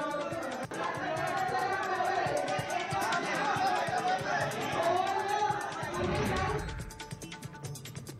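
A large crowd of farmers gathered at a meeting with highway and revenue officials fills the air with dense, steady chatter and overlapping voices, loud and close, thinning out near the end.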